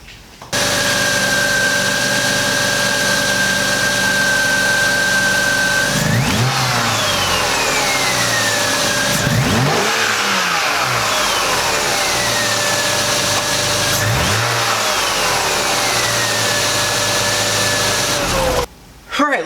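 BMW Z3 M with the S52 engine idling steadily up close, then revved several times in rising and falling sweeps before settling back to idle.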